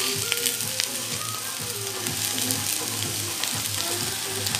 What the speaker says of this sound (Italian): L'acqua intanto con l'aglio bolle, guardate lì.